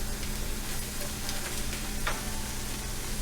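Cabbage and capsicum stir-frying in a pan for chow mein, a steady close sizzle with faint scraping stirs throughout, no voices.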